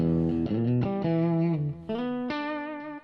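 Electric guitar with a clean tone through a Magic Dust Duo pedal plays a short phrase of ringing chords and single notes, loud and close, with a slight chorus-like shimmer and no talk.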